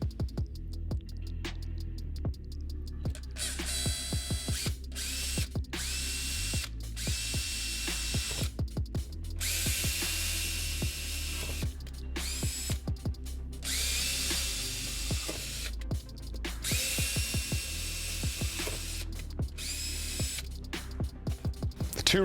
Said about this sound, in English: I'm gonna show some clips of me running a drill and measuring some stuff